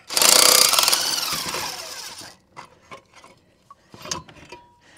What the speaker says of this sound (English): Impact made easy work of that.